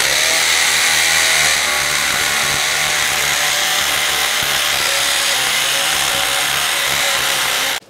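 An electric drill runs flat out at full speed during a home charging-station installation, a loud, steady, close-up roar that holds for several seconds before cutting off abruptly at the end.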